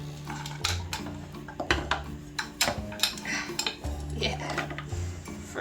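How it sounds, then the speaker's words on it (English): Chunks of frozen butter drop into a bowl in a kitchen, making several hard clattering knocks spread over a few seconds, with a faint steady hum underneath. "you're gonna drop that butter right in here"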